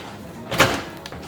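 A single short clunk of a microwave door closing, brief and close, in an otherwise quiet room.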